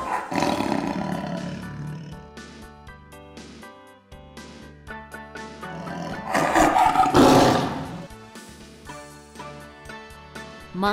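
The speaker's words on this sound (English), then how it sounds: "Tiger." A tiger roars loudly and at length, a deep sustained growling roar that swells and fades, with light music faintly underneath.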